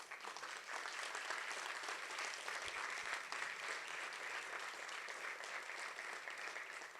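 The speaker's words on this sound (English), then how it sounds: "So I'd like a huge round of applause for the coaches." An audience applauds the volunteer coaches at a live speaking event, a steady wash of clapping from many hands that holds at an even level throughout, with no voices standing out.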